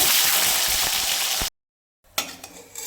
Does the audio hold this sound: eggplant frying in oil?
yes